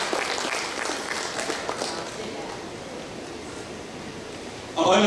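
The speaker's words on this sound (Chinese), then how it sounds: "我们再次把掌声送给张部长" An audience at a formal Chinese conference on elderly care applauds Minister Zhang, a steady wash of clapping that fades gradually before a sharper burst of sound at the very end.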